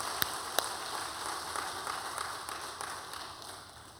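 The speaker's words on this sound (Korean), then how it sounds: "우리 박수로 한번 격려해 주시기 바랍니다" A church congregation claps together in steady, dense applause that continues throughout and slowly thins toward the end.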